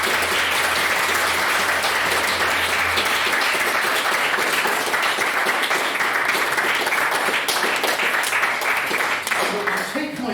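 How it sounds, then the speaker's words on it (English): Loud, dense applause from a debate audience, sustained for the whole stretch and thinning slightly at the very end, with a faint low hum beneath early on. "can we please have another round of applause for all of our wonderful speakers?"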